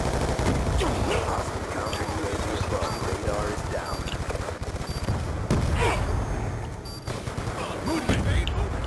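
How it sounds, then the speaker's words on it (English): Rapid gunfire and explosions in a Black Ops 2 match on the Nuketown map, dense bursts of automatic fire rattling on almost without pause, with players talking over the din. "they're just bombarding us"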